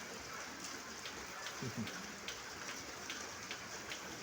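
Steady rain falls during a flood in Hat Yai, a soft, even hiss of drops on surfaces with a few faint patters, heard from some distance with no one talking.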